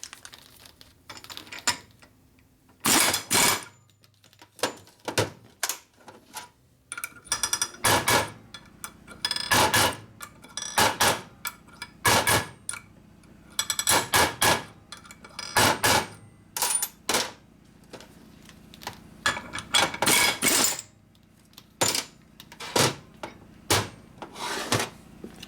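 A hammer strikes and peens pins on a part of a 1967 Harley-Davidson 74ci Shovelhead engine during a rebuild, with irregular clusters of sharp metallic taps separated by short pauses and light rubbing noises, close and clear.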